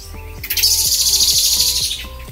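Bright, dense birdsong chirps loudly over a steady low background hum, several birds calling at once outdoors beside a forest.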